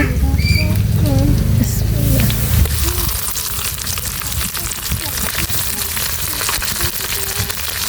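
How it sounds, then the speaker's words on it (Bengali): Ginger-garlic paste goes into a pan of frying onions. A loud sizzle with high squealing crackles settles into a steadier, softer hiss. "এখন হচ্ছে পেঁয়াজ ভাজা শেষ এবার হচ্ছে আদা রসুন বাটা দিয়ে দিব"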